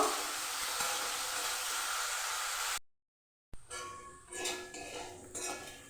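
Potatoes fry in a pan with turmeric and salt, giving a steady close sizzle that cuts off abruptly, then gives way to intermittent scraping and clinking of utensils.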